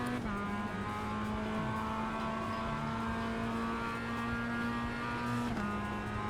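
A race car engine in the iRacing sim holds a sustained high, buzzing drone with a clear gear shift near the start and another near the end, loud and close with no talk.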